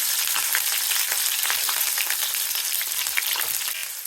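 Mustard seeds and cumin frying in hot oil as the base for a red pumpkin bhaji, giving a dense, continuous crackling sizzle that stays loud and close throughout with no voices.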